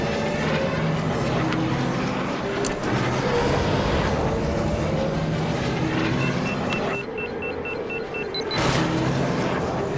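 Podracer engines roar and boost in the Star Wars Episode 1 Racer video game, a continuous whooshing drone with rising surges and short electronic beeps.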